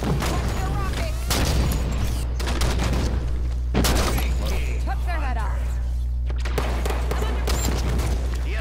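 A grenade explodes in a Halo 5 arena match amid rapid gunfire, with loud booms landing near the one- and four-second marks under a steady low rumble while players talk over the action.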